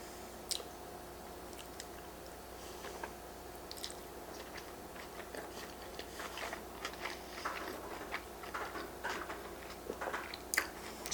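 Sushi with spicy mayo and soy sauce being chewed in an eating show, a steady run of close, soft wet crunching and squishing bites over a quiet room hum, with no talk.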